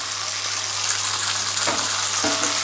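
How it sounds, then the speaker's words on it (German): Halloumi frying in a pan, a steady broadband sizzle with a low hum beneath and a couple of soft clatters near the end, no voices. "Als letztes müssen wir nur noch unseren Halloumi nochmal anbraten."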